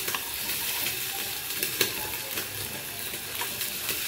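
Paneer and bottle gourd rolls sizzle steadily in an oiled pan while being turned over, a continuous bright frying hiss with small crackles and one sharper pop, no voices.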